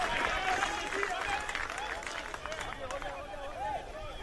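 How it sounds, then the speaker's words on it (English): A football crowd at a 2017 OFC Champions League semi-final between Team Wellington and AS Magenta gives appreciative applause, a fairly faint, diffuse patter of clapping mixed with distant crowd murmur and whistles. "Draws appreciative applause from the crowd."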